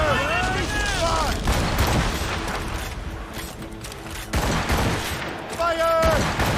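Ship cannons firing during a stormy naval battle in Assassin's Creed Rogue, loud booming volleys over dense rumbling noise, with shouting voices and musical tones layered in the mix.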